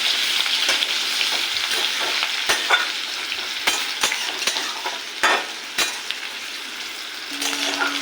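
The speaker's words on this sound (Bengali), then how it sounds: "ডুমো ডুমো করে তেজপাতা আলু এটাকে লাল লাল করে ভেজে নেব" Diced potatoes frying in hot oil with bay leaf and whole cumin, a close, steady sizzle broken by repeated scrapes and clinks of a spatula stirring against the pan.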